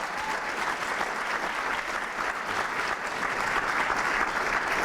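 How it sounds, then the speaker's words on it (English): Steady, dense applause from an audience honoring judges at a college elevator pitch competition, a full even wash of clapping that holds at a constant level throughout. "Let's give our judges a big round of applause."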